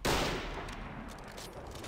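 Gunfire in the World War II game Behind Enemy Lines: Assault 2, set during the Warsaw Uprising: a loud, sharp shot at the start followed by dense, rolling battle noise and scattered distant shots.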